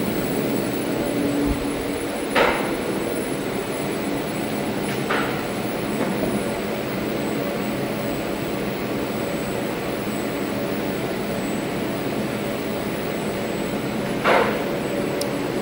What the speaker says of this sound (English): Very high-pitched sounds. Very high-pitched sounding. The drives on these are kind of loud.